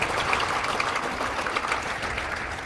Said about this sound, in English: Can we get a huge round of applause and, of course, stand up for our active military?